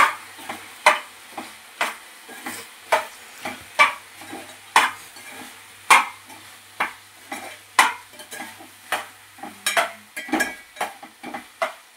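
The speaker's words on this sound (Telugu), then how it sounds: "ఆయిల్లోనే వేగనిద్దామండి. ఇంకా బాగా కలిపేద్దాం" Chicken pieces coated in chicken masala are stirred in hot oil in a pan for a curry. A spoon or spatula scrapes rhythmically over steady sizzling frying, with repeated close scraping strokes every second or so.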